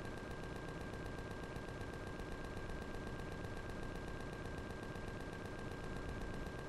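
Sustained automatic turret fire from an enemy drone base in the Empyrion sci-fi survival game, a dense continuous stream of rapid shots at steady loudness with a constant high tone running through, no talking.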